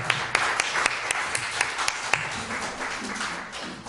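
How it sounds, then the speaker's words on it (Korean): Church congregation applauding during a Sunday morning worship service, a steady wash of many hands clapping with a few sharper claps standing out, fairly close and continuous for a few seconds. "다시 한번 하나님께 영광의 박수 올립니다."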